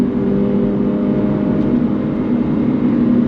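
A 2024 Subaru BRZ tS with its 2.4-liter flat-four engine drones loudly and steadily from inside the cabin, a sustained low hum with an even tone and no voices.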